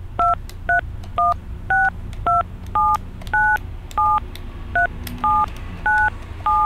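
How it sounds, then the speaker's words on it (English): Telephone keypad tones beep in a quick series of about a dozen short, loud dual-tone presses while a country code is entered, each press distinct over a low hum. "All I have to do is enter the country code."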